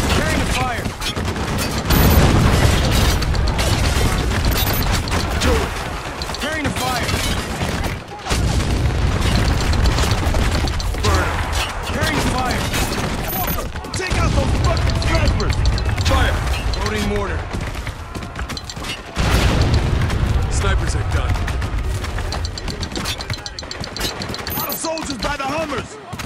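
Heavy gunfire and booming explosions fill a battle in the video game Spec Ops: The Line, with mortar blasts and rapid fire rolling continuously while voices shout over the chaos.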